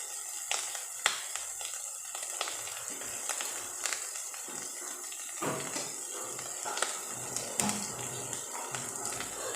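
Fish turned over while frying in a pan over a lowered gas flame, the water already cooked off: a soft sizzle runs under scattered clinks and scrapes as the pieces are flipped, fairly quiet and close.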